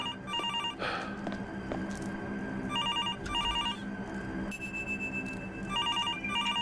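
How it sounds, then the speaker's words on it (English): A telephone rings in the Absinth video game, its electronic bell trilling in repeated bursts over a steady hum of game ambience. "shut that phone up."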